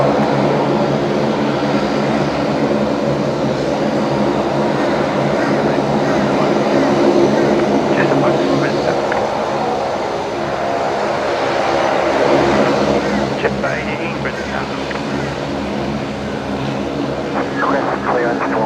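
A Jetstar airliner taking off from runway 01 right at Brisbane Airport, a loud sustained engine roar that stays steady and near throughout, with faint background noises layered on top.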